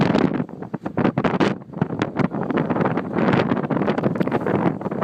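Strong wind at sea buffets a boat and the microphone in loud, rough gusts that roar continuously throughout, with no voices heard.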